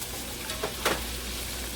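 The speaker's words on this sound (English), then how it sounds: "I'm going to add just a little bit of my green onions there." Green onions go into a pan of softened frying vegetables for chicken fried rice, giving a steady close sizzle with a couple of brief soft stirring scrapes.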